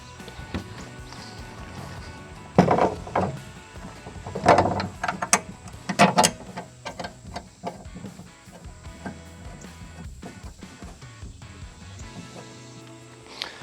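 Cam buckle straps are ratcheted and cinched on a vehicle spreader's winch mount, with a series of close mechanical clicks and metallic clacks in irregular bursts, then softer handling noises.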